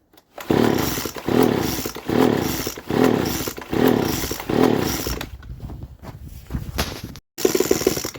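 A Poulan leaf blower with a modified exhaust is revved at full throttle about six feet away, giving six loud rhythmic raspy two-stroke bursts, then a rougher idle, a brief cutout and a final rev.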